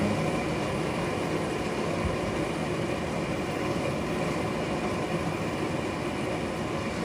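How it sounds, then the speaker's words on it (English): Heavy rain falls in North Carolina as a steady, loud, broadband hiss that stays constant throughout, with no talk over it. "You might hear some rain in the background."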